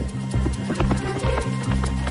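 Steady clip-clop of horse hooves at a trot during a riding lesson, close and rhythmic, with a few faint voices mixed in.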